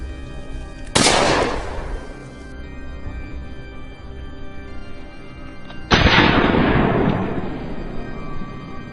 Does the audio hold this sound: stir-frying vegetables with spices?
no